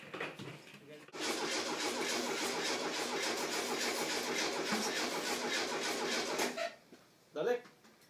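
An air-cooled Volkswagen Beetle engine, just fitted with its spark plugs again, cranks and catches, then runs loudly and steadily for several seconds before cutting off, with brief voices before and after.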